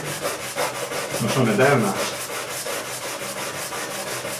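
Wood is sanded by hand with sandpaper in a steady run of rhythmic rasping strokes, close and continuous, while a voice speaks briefly over it.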